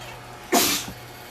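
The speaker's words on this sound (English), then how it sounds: "I got to sneeze" A single short, loud sneeze bursts out, alone against a quiet background.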